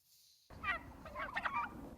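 Turkeys gobbling in a flock, several overlapping bursts of gobbles across the clip, fairly close with farmyard background noise.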